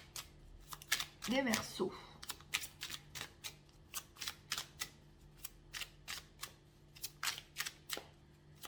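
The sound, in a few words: tarot cards being shuffled and drawn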